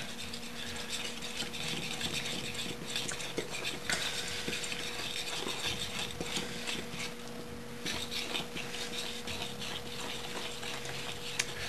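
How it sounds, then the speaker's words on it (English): Milk being stirred into flour for scone dough, a steady clicking, scraping rhythm of a spoon working in a bowl from the edges inward, close and continuous with no talking. "And you just start stirring the stuff in from the edges."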